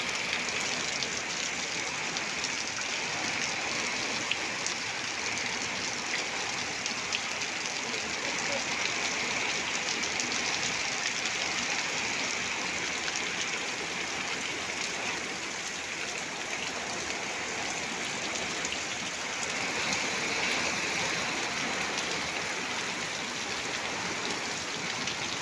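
Heavy rain falling in Kembhavi, a dense, even hiss of downpour lasting throughout at moderate level, with no distinct voices above it.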